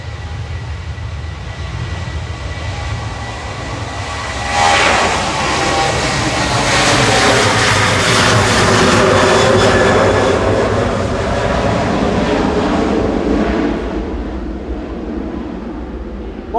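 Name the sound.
Jet2 Boeing 737-800 departing Manchester Airport to Mahon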